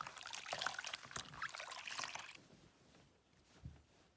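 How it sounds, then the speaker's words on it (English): Water trickles and splashes softly as soap is rinsed out of a piece of hand-felted wool, faint and close, with a brief louder slosh before it settles. "I'm going to wash out the soap"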